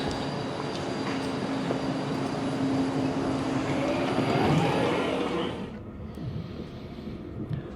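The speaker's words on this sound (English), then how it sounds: "So we're leaving on this limited stop service to Crewe now, which has come via Manchester Airport." A limited-stop passenger train bound for Crewe, having come via Manchester Airport, rumbles steadily with rail noise and a faint high whine, then the roar drops sharply near the end as it quietens.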